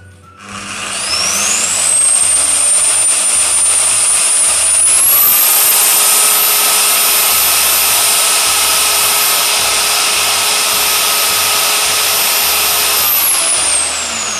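A Krisbow circular saw runs steadily, spinning up to a loud, high whine, holding at speed, then winding down at the end, alone and up close, with a low rhythmic pulse in the background.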